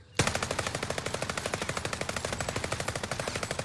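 The Whitley in SMG mode in Call of Duty: Warzone fires one long uncontrolled burst, a loud, fast and evenly spaced stream of shots after a sharp start, close and with no talking.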